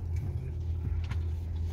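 Car engine left running while parked at a burger stop, a steady low idling rumble heard close and continuous throughout with no talk.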